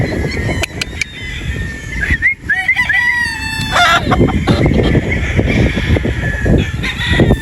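A Boston Roundhead rooster crows close by, its drawn-out harmonic call rising over a constant noisy farmyard background, with a few shorter calls following.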